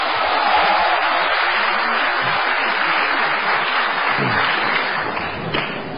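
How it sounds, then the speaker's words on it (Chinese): A theatre crowd at a Deyunshe New Year crosstalk show with Guo Degang and Yu Qian bursts into sustained, dense applause that holds steady and loud for several seconds before easing slightly. "大伙鼓掌了"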